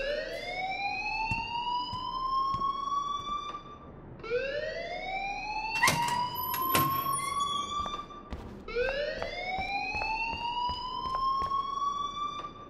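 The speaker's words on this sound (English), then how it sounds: "please turn off that alarm since that's your" A rising, wailing electronic alarm sounds in the video game Life Is Strange, sweeping upward three times in long repeating cycles with a few sharp clicks, loud and steady with no talk over it.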